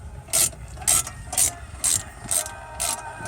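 A ratchet tightens bolts on the front brakes of an Audi A4 Quattro, six evenly spaced rasping clicking bursts close by, with short pauses between strokes and no talking.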